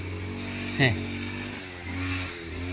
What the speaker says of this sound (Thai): เสียงเครื่องตัดหญ้าก็ตัดไป